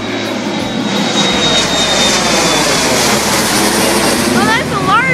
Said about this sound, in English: there's 2 planes coming after it to land